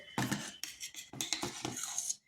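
A utensil scrapes and clinks against a bowl while semolina and flour batter for poa pitha is stirred. The strokes are close and irregular, several in quick succession with brief pauses.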